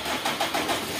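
A vehicle engine starts up after a new clutch plate has been fitted, a brief close burst of mid-pitched engine noise with a few quick pulses settling into a steady run.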